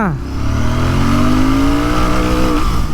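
A Royal Enfield Interceptor Bear 650 motorcycle accelerates hard in first gear, its engine note rising steadily and loudly over three seconds under wind rush, close to the rider.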